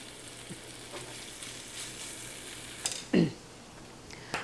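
Bacon frying in a pan gives a low, steady sizzle throughout, with a couple of louder scraping clacks from stirring near the end and no talking.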